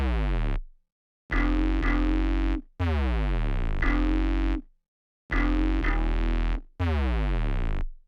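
Synth sub bass doubled by a bass guitar play the same gliding portamento line in loud distorted phrases, each sliding between notes, separated by short silent gaps.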